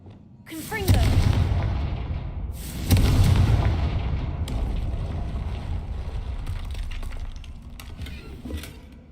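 The Confringo spell in the Hogwarts Legacy video game blasts a barrier: two heavy booming impacts a couple of seconds apart, each followed by rumbling debris and a crackling tail.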